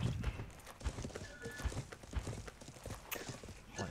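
A horse in the medieval game Life is Feudal gallops with repeated hoofbeats in an even rhythm, close and fairly loud, over a faint background wash.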